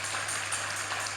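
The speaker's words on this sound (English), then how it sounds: "You can clap to that." Brief audience applause at an interactive session event, a faint, diffuse wash of clapping lasting about a second over a low steady hum.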